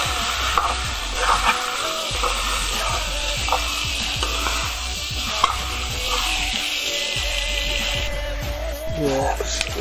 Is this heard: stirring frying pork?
yes